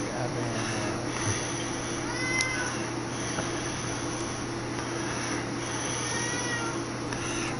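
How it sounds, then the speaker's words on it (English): A pet cat meows repeatedly in a room during a card game of Uno, the cries sitting under loud, overlapping talk and a steady background hum. "that fucking mind-numbing meow"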